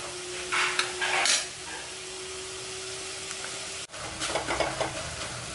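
Tomatoes and salt sauté in a hot pan for Kongu-style horse gram rasam, with a steady close sizzle and bursts of a spoon scraping and stirring, pausing briefly before stirring resumes.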